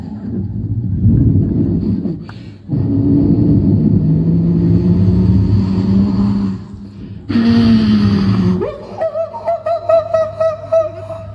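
A mimicry artist at a temple festival in Guhagar voices a bus rumbling in, its engine droning and sputtering before it cuts out and stalls at Shringartali, followed by a few higher whining tones. The whole imitation is loud and close, performed by a single voice.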